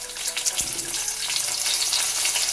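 Chopped tomato dropped into golden-brown frying onions with a little sugar in a pan, bursting into a loud, continuous hiss and crackle with a brief thud as it lands, steady to the end.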